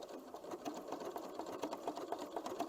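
A domestic sewing machine runs steadily through a short zigzag blanket stitch, set 2.5 wide and 2.5 long, on a quilt block appliqué. It makes a continuous close whir with rapid, even needle ticks and no talk over it.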